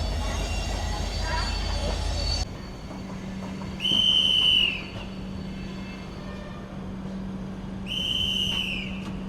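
The Tirupati to Sai Nagar Shirdi express pulling out of Tirupati station: a steady rolling rumble broken by two loud, sustained horn blasts several seconds apart.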